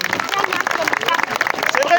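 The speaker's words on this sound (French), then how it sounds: "On les applaudit." Audience clapping and cheering fills a hall in dense, continuous applause, with crowd voices mixed into the clapping.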